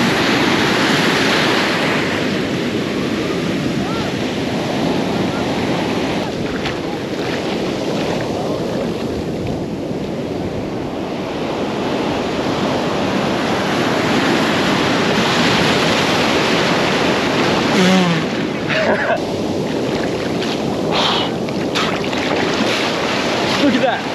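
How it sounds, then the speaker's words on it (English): Big ocean waves at a Rio de Janeiro beach churn and crash in a loud, continuous roar heard from close range in the water, with heavy wind buffeting the microphone. "I can see that now while I'm up staring eye level at these waves here. They're pretty big."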